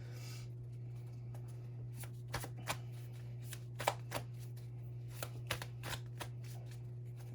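Tarot cards handled and drawn during a reading: a series of crisp, brief card snaps and flicks, some sharper than others, spaced irregularly over a steady low hum, with no talking.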